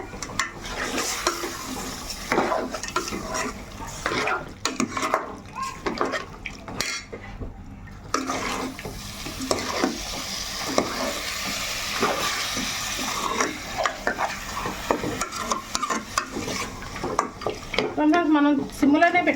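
Spiced chicken masala stirred in a pot, continuous scraping and clinking of a spoon against metal over a soft sizzle, close and steady throughout.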